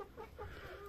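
Newly acquired hens clucking while feeding, soft short clucks overlapping in quick irregular bursts, faint and close-by over a quiet background.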